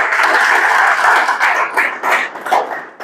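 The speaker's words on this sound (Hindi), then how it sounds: "इनके लिए एक बार सब जोरदार तालियां बजाएंगे" An audience applauds loudly and steadily at a talk on magnetic therapy, the dense clapping swelling and fading slightly before thinning out near the end.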